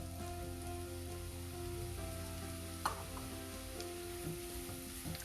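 Mushrooms fry in melted butter in a pan, producing a steady soft sizzle and crackle like light rain, with a single sharp tap near the middle over a constant low hum.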